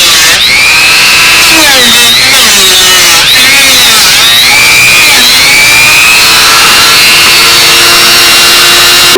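Power tool trimming the edge of a carbon fiber wing with resin not fully cured, a very loud, continuous whine that shifts pitch as the cut loads and eases.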